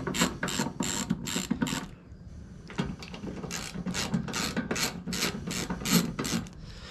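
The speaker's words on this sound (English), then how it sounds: "Now removing these 2 bolts, 2 on the outside, the 4 bolts." Ratcheting and wrench clicks while bolts come off a Jeep JK cowl cover, bursts of close mechanical ticking separated by brief pauses, with no talking.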